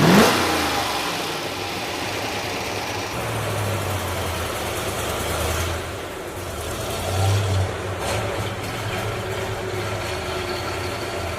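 Pontiac 1960s muscle car with a 425-horsepower V8, the engine idling and revving in a couple of swells, moderately close and fairly loud with no talking.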